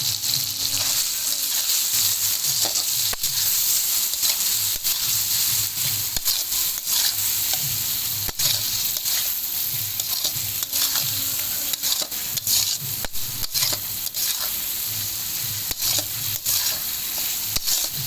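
Salt, turmeric and chilli being stir-fried in a pan for noodle masala: a continuous loud sizzle with repeated scraping strokes of a spatula in a steady rhythm throughout.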